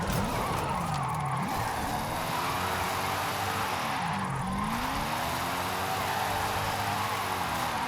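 A car in Forza Horizon 5 drives at speed with a steady engine drone. Its pitch rises and falls through gear changes and revs, and a constant road and wind rush continues throughout.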